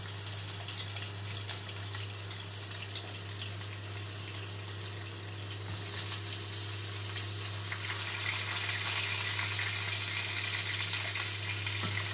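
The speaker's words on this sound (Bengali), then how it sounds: "এখন আমরা মাছটা একটা একটা করে মাছ দিয়ে দিব তেলের মধ্যে" Tilapia fish fry in oil over medium heat with a steady, even sizzle that grows a little louder partway through, over a low constant hum, close and without talk.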